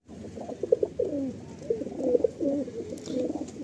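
Madrasi and Andhra pigeons in a loft cooing close by, with soft, rolling calls repeating in a steady rhythm and overlapping throughout.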